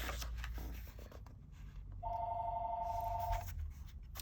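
A real telephone rings indoors, heard faintly at a distance. It gives a single electronic ring burst of about a second and a half over low room hum, with no talking.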